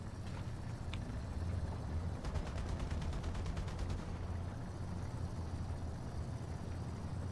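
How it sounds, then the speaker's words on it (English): Gunfire rattles against a tank in War Thunder, a rapid burst of repeated shots in the middle over a steady low engine drone, fairly faint and continuous throughout. "It looks like somebody's shooting at you, Elite."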